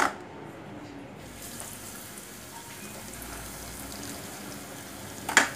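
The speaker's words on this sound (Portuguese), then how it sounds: "Pra vocês verem lá já fritando" Steady crackling sizzle of breaded steak frying in hot oil, a dense hiss throughout, with a brief clatter at the start and end.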